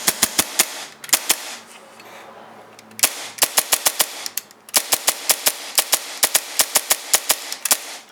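Airsoft Hi-Capa pistol fitted with a UAC CNC 6061 aluminum loading nozzle fires a rapid string of sharp, close, loud snapping shots in quick bursts, with brief pauses between volleys.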